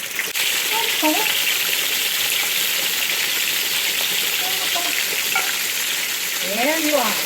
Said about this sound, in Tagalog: Fry a little bit of the shrimp.